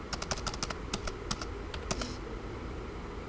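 Keys on a computer keyboard clack in a quick burst of several crisp taps, the last pair being a Ctrl+Enter press, then quiet; close and fairly soft, with no talking.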